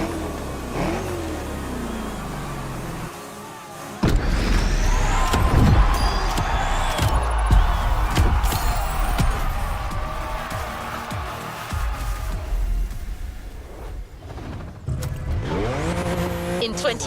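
A Lamborghini Countach LPI 800-4 racing in The Crew Motorfest, its engine revving hard through gear changes with tire squeal, a steady close roar broken by brief lifts and surges.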